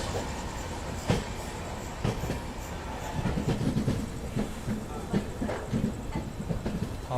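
The Delhi–Gaya Amrit Bharat Express runs past Kanpur with a steady rumble heard from on board, overlaid by irregular rhythmic clicks and knocks from the wheels and couplings.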